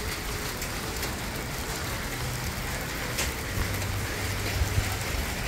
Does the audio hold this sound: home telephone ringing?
no